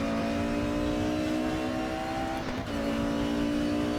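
A 1992 four-cylinder race car engine in the RaceRoom racing simulator, held near 10,000 rpm with a steady, loud, buzzing high-revving drone and a brief dip around a gear change.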